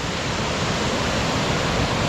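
Roushtown Run, a forest stream in Tiadaghton State Forest, pours over a series of old splash dams, giving a loud, steady, broadband rush of falling water close by with no pauses.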